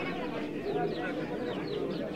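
Pigeons cooing at a busy pigeon market in Bangladesh, soft throaty calls repeating close by under a steady murmur of crowd voices.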